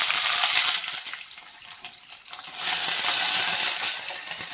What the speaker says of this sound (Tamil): வெங்காயம், பச்சை மிளகா ரெண்டையும் ஆட் பண்ணி வதக்கிக்கலாம்